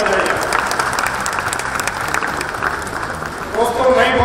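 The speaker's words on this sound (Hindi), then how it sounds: "दोस्तों, मैं कहूँगा तुमके ये जोरदार तालियां बजाइए।" A crowd at a property exhibition in Vashi, Navi Mumbai, applauds in a thick, loud wash of clapping that swells slightly near the end as a voice starts to rise over it.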